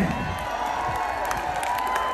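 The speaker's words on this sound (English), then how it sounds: "Friends, a round of applause right there." A crowd at an 80s rock glow party carnival makes a steady, dense wash of applause and cheering, heard at moderate level throughout with no clear breaks.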